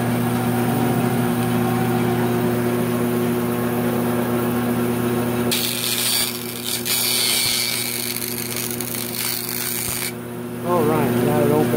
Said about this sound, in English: That bandsaw works pretty good to open letters.